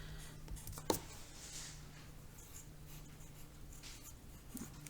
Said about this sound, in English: first thing we always do is put our name on our paper